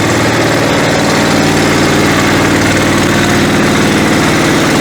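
A Motor Sich walk-behind tractor engine pulling away in first gear, a loud steady single-cylinder chug with a constant throbbing rhythm, close by and alone.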